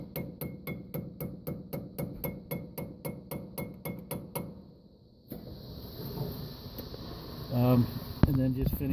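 A hammer drives a roll pin into the knotter gear of a hay baler: a long even run of sharp metallic taps about four per second, which stops, then gives way to shuffling, a few clinks and one louder strike.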